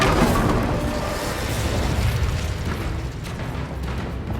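An Incendio fire spell going off in Hogwarts Legacy: a loud, rumbling fiery burst that swells at once and then slowly fades under a roaring tail.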